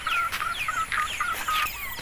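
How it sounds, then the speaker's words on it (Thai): Farm chickens kept beside rice fields give repeated, rhythmic clucks and short calls, fairly close and moderately loud, with no one talking over them. "ไก่ที่เราเลี้ยงไว้"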